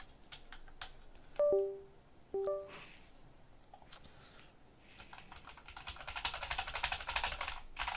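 Rapid typing on a computer keyboard, fast irregular key clicks that turn into a dense clatter near the end, broken by a couple of short electronic tones, close and fairly quiet.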